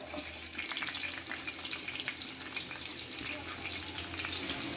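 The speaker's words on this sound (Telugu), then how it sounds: "కొంచెం కరివేపాకు, అన్నీ వేసుకొని ఇలా వేయించుకుందాం." Cumin, chopped onions, crushed garlic and curry leaves fry in a pan for bitter gourd pulusu, giving a steady, continuous sizzle and crackle throughout with a faint watery hiss, no talk.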